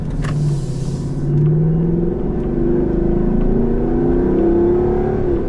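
A Lexus LC 500 Cabrio's V8, roof closed and in normal mode, revs up with a rising, throaty growl that climbs steadily and holds loud and close, with no voices over it.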